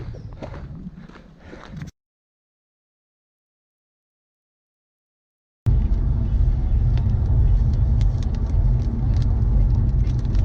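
A car drives on a Scottish road in poor visibility. After a brief noisy start and a sudden dropout, a loud, steady engine and road rumble fills the cabin.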